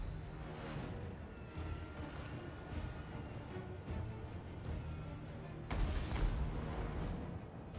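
Artillery fire in the Total War: Warhammer 2 strategy game, a steady rumble of distant booms and impacts that rises in loudness near the end.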